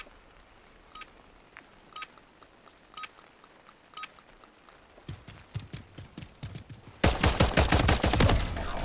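Gunfire in Call of Duty MWIII, starting with sparse, regularly spaced single shots, then denser bursts, and ending in loud, rapid automatic fire.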